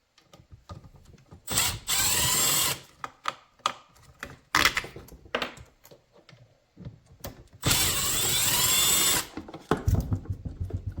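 A ratchet tool clicks and whirs in several sustained bursts while taking apart an old leaf blower that sat broken for years, with sharp mechanical clicks, rattles and metal handling between bursts; no talking.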